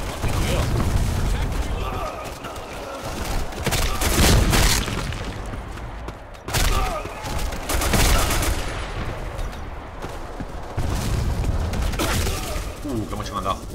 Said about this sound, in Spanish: Otra granada.